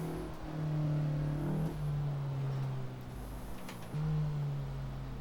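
A 1952 Ferrari 500 race car in Assetto Corsa holds a steady, buzzy engine note. The pitch dips briefly at two gear shifts and climbs again, loud and continuous from start to finish.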